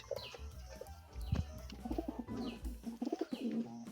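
King pigeons coo in soft, throaty rolling bursts close by, with several overlapping calls and faint chirps from other birds nearby.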